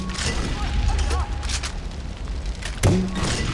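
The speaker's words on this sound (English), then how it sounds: "Gunfire? Yeah, they're still attacking from the east. Boom. I like how they blow up in this game." Explosions and gunfire in the video game Far Cry 4: a few muffled booms and thuds, with one sharp, loud blast near the end, while an enemy attack goes on from the east.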